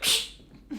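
A single sharp, breathy sneeze bursts out close by, then a brief softer exhale follows in a quiet room during a board game session.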